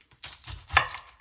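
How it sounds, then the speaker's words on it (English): A knife slicing through a red onion while making guacamole gives a few soft, close cuts, with one sharper chop standing out in a quiet kitchen. "Next step is we're going to cut our onion"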